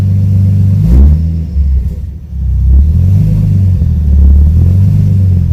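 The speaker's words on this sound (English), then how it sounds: "I just revved it." An R32 Nissan Skyline's RB25DE-T engine, which has a fluctuating idle, revs up and down twice, deep and close, its pitch rising and falling with a brief dip between the pulls.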